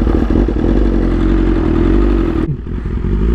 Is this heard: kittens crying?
no